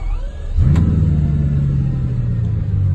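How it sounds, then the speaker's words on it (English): A Bugatti Chiron Sport's engine fires up with a sharp starter burst, then settles into a loud, steady, deep idle rumble close by, with no one speaking. "This is how you start a Chiron Sport."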